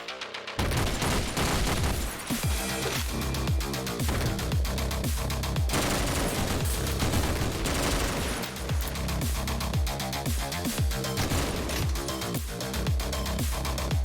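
Gunfire in the top-down action game OTXO, with dense, rapid bursts of shots and booming blasts layered over loud, driving game music, continuous and close with no speech heard.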